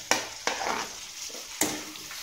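Dried red and green chillies fry in a pan, a steady crackling sizzle broken by three sharp knocks from a spoon or spatula striking the pan, heard up close with no speech.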